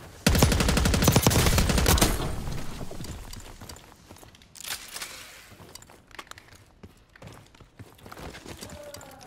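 Gunfire in a console first-person shooter, a rapid automatic burst of loud close shots that trails off into scattered mechanical clicks and fainter distant pops.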